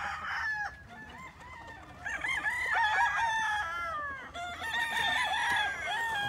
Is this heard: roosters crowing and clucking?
yes